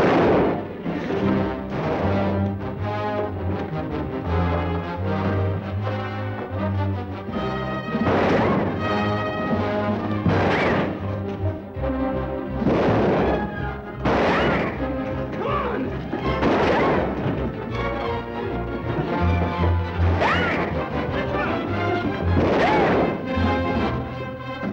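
Gunfire and crashing in a scene from a 1946 film come as repeated loud bangs and booming impacts spread across the passage, mixed with a busy soundtrack of music.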